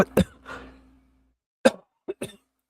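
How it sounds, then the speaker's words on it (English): A couple of sharp coughs at the start, then after a quiet gap a few shorter coughing bursts, close and fairly soft. "Sorry about that. I had to cough."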